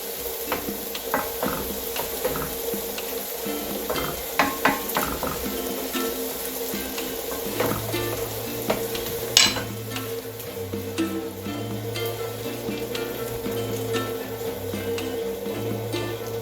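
Golubtsy sauce sizzling in a pan as it is stirred, a steady soft frying hiss with light scrapes and ticks of the utensil, close and continuous with no talking.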